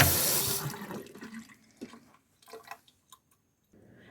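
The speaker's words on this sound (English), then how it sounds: "go ahead and wash the strainer up. Get anything that might be sticking in these holes" Tap water splashing over a kitchen strainer being washed, a loud gush at first that fades into scattered drips, light clinks and brief trickles, with no talking.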